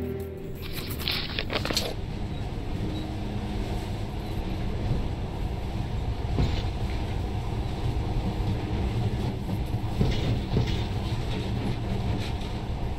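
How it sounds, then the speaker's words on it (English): A monorail train in Metro Last Light Redux runs with a continuous rumbling, rattling rail drone, while brief metallic clanks and hisses rise over it at the start. "In the past, trains were ordinary things. But now, this monorail seems magic, doesn't it?"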